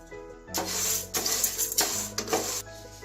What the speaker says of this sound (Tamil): இந்த உளுந்து சேர்த்துட்டு ஸ்லோ ஃப்ளேம்ல பொன்னிறதாரது வரைக்கும் வறுத்து எடுத்துக்கலாம்.